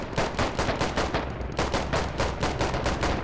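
Sustained gunfire from the tactical shooter game Squad, with rapid repeated rifle and machine-gun bursts rattling continuously and loudly throughout, with no voices over it.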